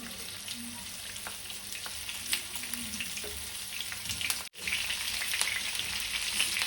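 Stuffed bitter gourds fry in a pan with a continuous crackling sizzle, some low clatter and a short break before the frying noise resumes.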